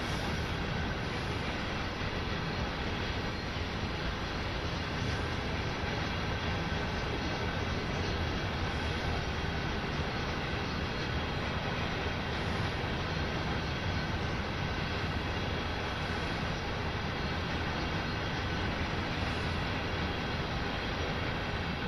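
A long freight train rolls past in Train Sim World 2, a steady, unbroken rumble of wheels and cars with no rise or fall, dense and moderately loud, no voices.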